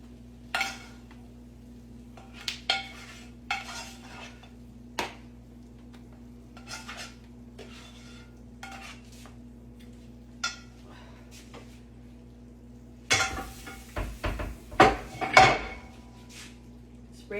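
Hot peanut brittle is spread across a rimless cookie sheet with a utensil, producing scattered scrapes and metallic knocks against the pan over a low hum, with a cluster of louder clatters near the end.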